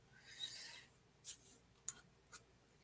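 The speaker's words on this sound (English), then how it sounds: "I want to get used to using my dip pen." Dip pen with a small Speedball cartooning nib scratching across paper, a soft drawn stroke followed by several short, crisp scratchy taps, close and quiet.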